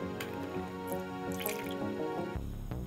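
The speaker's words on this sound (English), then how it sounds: "A last thorough rinsing with distilled water is performed." Distilled water rinsing a glass slide during a Gram stain in a biology lab, a steady close trickle and dripping with a brief gurgling change near the end, no talking.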